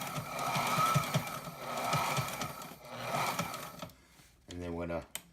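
A Sailrite LSZ-1 sewing machine runs a straight stitch in steady bursts of mechanical whirring, fairly close, with short pauses between runs and a brief spoken phrase near the end.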